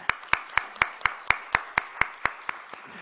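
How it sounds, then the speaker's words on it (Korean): Slow, even claps ring out about twice a second from a church congregation welcoming a new youth pastor at a Sunday service, each clap distinct and moderately loud with no talk over them. "우리 축복과 환영의 박수하도록 하겠습니다"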